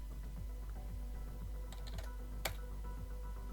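Keyboard keys clatter as commands are typed in the hacking video game Hacknet, a steady run of quiet, rapid taps under a constant low hum, with one sharper key strike partway through.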